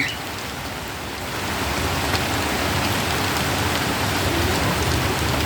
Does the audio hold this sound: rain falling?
yes